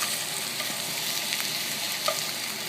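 Thin slices of beef fry on a hot skillet for Vietnamese spring rolls, a constant close sizzle with light spitting pops and a few faint utensil clicks, no voices.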